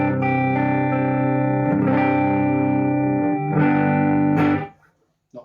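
Clean-ish electric guitar tone from a Maybury guitar run through an Evil Robot pedal, sustained strummed chords ringing loud and steady, shifting once midway, then cutting off near the end.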